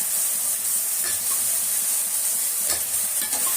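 Onion, tomato and drumstick sautéing in a pan for rasam give a steady, close hiss of frying with a few soft scraping stirs, continuous from start to finish without any voices.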